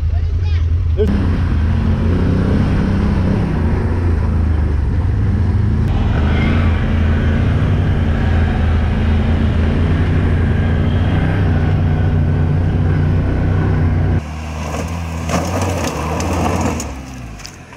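Talon X side-by-side on 30-inch Cryptid tires revving hard during donut attempts, a loud sustained engine roar that drops off near the end, with people talking over it.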